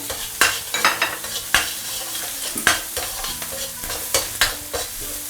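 Ginger, garlic slices and small chili peppers stir-fried in a wok with Shaoxing wine, giving steady close sizzling with repeated sharp scrapes and clacks of the spatula roughly every half second.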